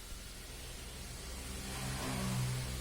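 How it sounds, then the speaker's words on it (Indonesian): A used car's engine runs with a steady low hum that swells slightly toward the end, heard alone without talk. "Nah, selanjutnya ini mumpung mesinnya nyala"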